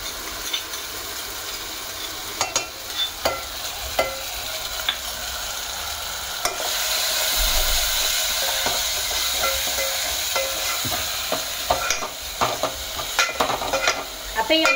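Sambar gravy masala sizzles and hisses in a hot pan as a spoon stirs it in a steady scraping rhythm. Frying grows louder and steamier partway through, with no voices.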